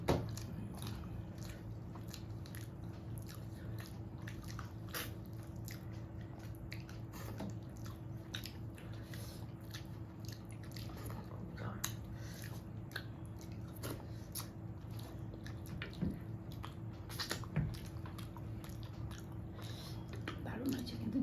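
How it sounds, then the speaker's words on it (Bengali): Someone eating rice, dal and mutton curry by hand at close range, with soft, repeated wet chewing and squishing sounds spread evenly over a quiet background. "আজ একদম পাত পরিষ্কার করে খাচ্ছি।"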